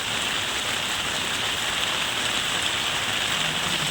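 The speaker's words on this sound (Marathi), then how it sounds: "सकाळपासून पावसाने जोर धरलेला आहे तो अजून कमी होत नाही आहे उलटा हा पाऊस वाढतच चाललेला आहे" Heavy rain pours outside a house, a dense, steady hiss of falling water at even strength.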